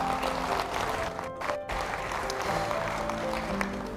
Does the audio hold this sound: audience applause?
yes